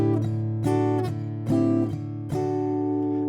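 Guitar triads played with all down strums in the interlude, four full bright strums in a steady rhythm that ring into each other, close and solo with no voice.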